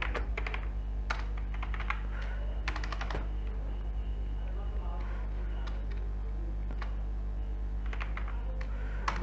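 Someone types on a computer keyboard, entering data into accounting software. Clusters of quick key clicks come in irregular bursts over a steady low electrical hum.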